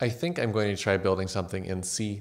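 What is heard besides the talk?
No everyday noises stand out.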